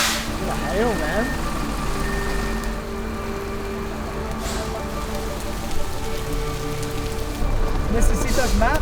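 Hail falls outdoors in Mexico near a retreat center, making a dense, steady patter on surfaces throughout, with faint traffic noise in the background.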